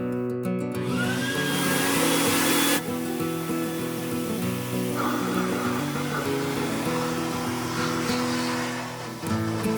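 Blow dryer running steadily while a dog is dried after a bath, a loud continuous broadband whoosh that holds throughout with a slight shift in tone partway through.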